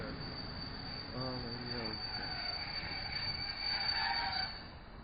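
A train rolls past a station platform with a steady rumble and rhythmic wheel clatter, rising slightly louder near the end, alone without talk.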